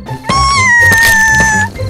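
A cat lets out one long, loud, drawn-out meow close by, rising sharply and tapering off near the end, with faint thumps around it.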